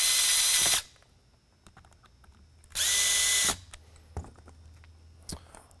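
A power driver running screws into a Whelen 500 V-Series Super-LED lighthead housing: two loud whirring bursts separated by quieter clicks and handling noises, heard close up.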